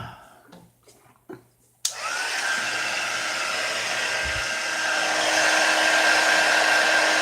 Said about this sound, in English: get the heat tool and see what happens to it